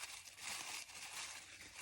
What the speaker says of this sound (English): I'm going to crumple it all up, try and make it look a little vintage anyway.